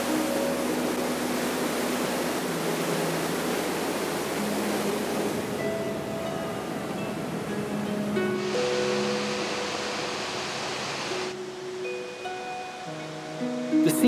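Water below the dam at Charyn, Kazakhstan, rushes with a massive, continuous roar, loud and close, a steady broadband wash that never lets up, with faint tonal hums underneath.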